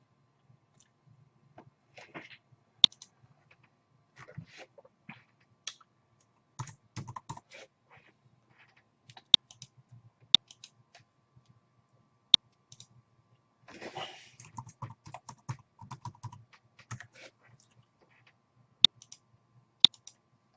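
Quiet, sporadic keystrokes on a computer keyboard, short bursts of typing with pauses and a few sharper clicks, close and alone.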